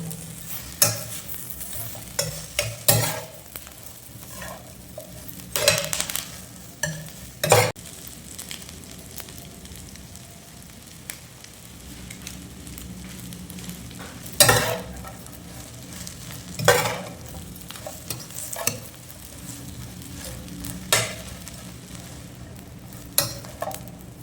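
Black pepper frying in oil in a pan while stirred, for mutton rotti: a steady low sizzle under repeated sharp scrapes and clanks of the spoon against the pan, arriving in irregular bursts.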